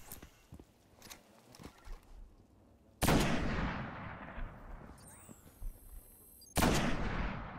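Gunfire in the video game Destiny: two loud, booming shots about three seconds apart, each trailing off in a long rumbling decay, with light scattered game sounds in between.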